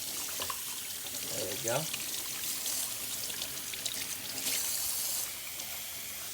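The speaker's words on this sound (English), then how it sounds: "Rinse it off real good." Running tap water pours steadily into a kitchen sink as a roast is rinsed, a close continuous splash with a short spoken remark partway through.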